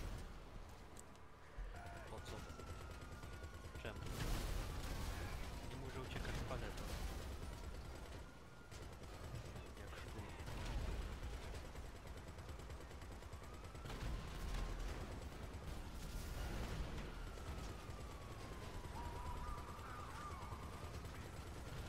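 Tank turret gunfire in a video game battle at Paleto comes as repeated bursts of shots and booming blasts over a rumbling background, with whistling tones sweeping by and mechanical clatter between volleys.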